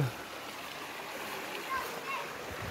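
Steady broadband rush of a flowing river, continuous and fairly close, with faint voices in the background, in Pili, Sorsogon.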